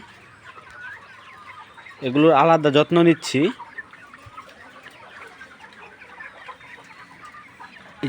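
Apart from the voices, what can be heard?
chickens clucking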